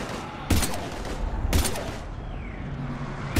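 Sustained gunfire in the video game Mass Effect 3 rattles on under a dense battle din, with two sharp, loud blasts standing out about a second apart.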